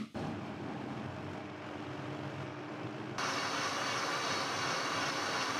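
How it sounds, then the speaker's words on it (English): A kitchen blender whirs steadily as it purees a smoothie of dried dates and water, loud and close, its motor pitch jumping higher partway through as it speeds up. "And let's blend it."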